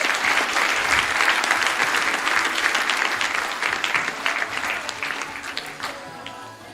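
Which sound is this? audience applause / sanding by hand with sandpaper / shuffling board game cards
audience applause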